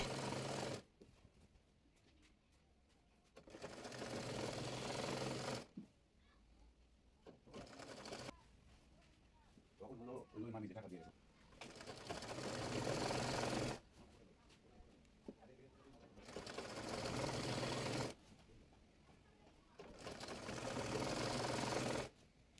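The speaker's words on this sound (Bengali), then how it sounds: "রাবারটি টেনে টেনে সেলাই করে নেব।" Sewing machine stitching stretched elastic into the waistband of palazzo trousers, several bursts of steady needle whir separated by pauses, close by, with quieter handling sounds in the gaps.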